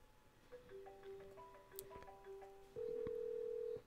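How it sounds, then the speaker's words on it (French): Office desk telephone left ringing unanswered while waiting for it to roll over to voicemail, giving a steady electronic tone pattern with beeps and then a long sustained tone near the end. "Je vais laisser sonner, parce que par défaut, il est configuré pour basculer en messagerie."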